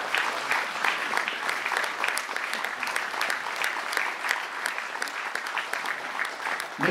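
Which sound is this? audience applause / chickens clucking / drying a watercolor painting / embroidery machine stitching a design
audience applause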